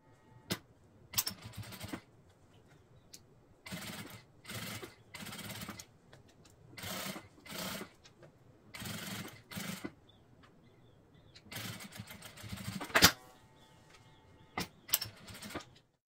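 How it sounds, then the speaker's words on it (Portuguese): A sewing machine stitches a seam on a circular fabric bag, running in repeated loud mechanical bursts of whirring stitches separated by short pauses, with no talking. "para que eu possa ir para a máquina e fazer uma costura"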